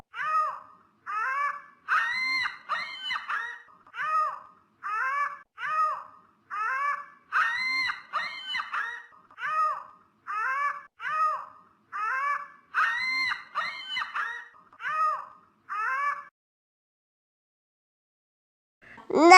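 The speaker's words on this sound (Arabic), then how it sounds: "نعامة." Ostrich calling in a long series of evenly spaced, harmonic, honking bursts, loud and close, ending with a brief silence and a sharp onset.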